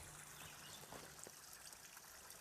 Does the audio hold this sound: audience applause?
no